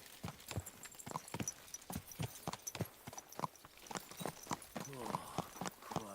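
Horse hooves clop in a steady walking rhythm, close and clear, in a medieval Bohemian setting from Kingdom Come: Deliverance 2, with a brief soft snort or whinny near the end.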